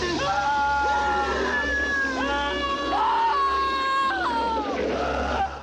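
Screams from a horror film scene in The Blob, with a harsh, sustained high wailing cry that rises and bends over a constant low rumble of background score and ambience, loud and close throughout.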